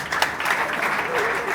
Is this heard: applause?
yes